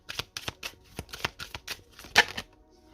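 Oracle cards shuffled by hand in a quick series of crisp riffling bursts, about a dozen close, papery snaps in an uneven rhythm, with no talk over them.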